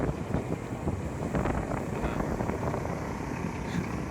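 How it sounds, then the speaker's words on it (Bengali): Strong wind buffeting the microphone by the sea near the Karnaphuli Bridge in bad weather, a continuous low roar with gusty rumble and faint wave wash underneath. "দেখেন জাহাজ, কি বাতাস, দেখেন অনাবৃত কি পানির ঢেউ"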